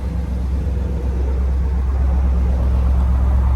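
A 1989 Pontiac Trans Am GTA factory convertible engine idling up close, a deep steady low rumble with an even, smooth throb and no revving.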